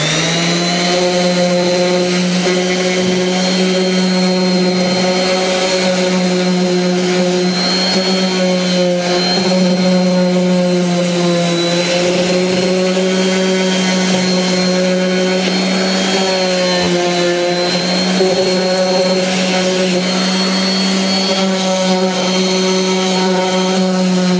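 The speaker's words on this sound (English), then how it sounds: "sand those off a little bit" A power sander works the edges of a wooden board, producing a loud, continuous motor whine with a steady pitch that wavers only slightly throughout.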